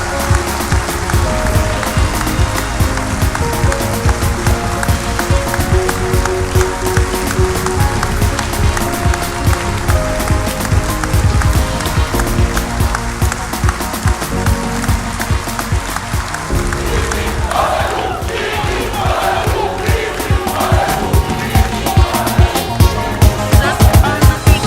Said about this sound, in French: je vous demande de les applaudir aussi fort que vous pouvez